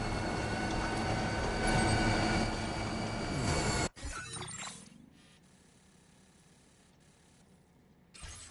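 A monorail ride in a Death Stranding-style video game: loud, steady rail rumble and wheel rattle for about four seconds, then a sharp cut to a much quieter hum with a brief bump near the end.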